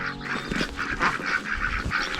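Ducks quacking on an organic farm, a run of rapid nasal calls overlapping one another, fairly close and steady, with chickens kept alongside them.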